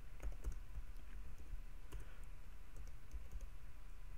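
Quiet typing on a computer keyboard, a quick run of soft clicking keystrokes in irregular bursts over a low background hum.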